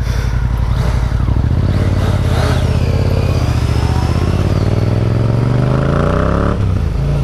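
A Yamaha demo motorcycle with an Akrapovic exhaust revs hard and close, its engine note rising steadily under acceleration with heavy wind rush before easing off at the end.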